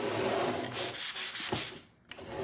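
An old wooden chair being sanded by hand gives a steady, close rasping rub that continues throughout and eases off briefly near the end, with no voices.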